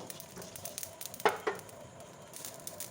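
Whole spices dry-roast in a pan while being stirred, a faint soft sizzle with light scraping and two sharper clinks in the middle, quiet and close with no talking.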